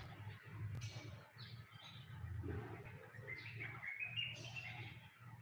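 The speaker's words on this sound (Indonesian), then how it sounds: "di tempat kita itu masih ada burung manyar guys" Weaver birds (manyar) call in an aviary, with a busy mix of chirps and squawks over a low, steady background hum.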